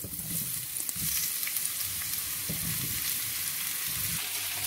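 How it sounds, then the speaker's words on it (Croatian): Mushrooms sizzle steadily in hot oil, a constant crackling hiss with a few soft low bumps from the pan. "Kad se ulje zagrejelo, stavljamo pečurke da pržimo."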